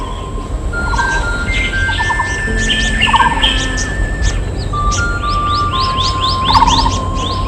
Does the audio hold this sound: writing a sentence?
no